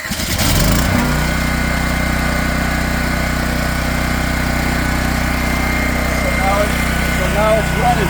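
A Champion dual fuel portable generator cranks on electric start and fires into a loud, steady, close-up engine drone that runs continuously, with a voice talking over it.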